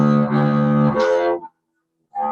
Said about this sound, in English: That is called the Wedding March, and it's an interesting tune because if you play it backwards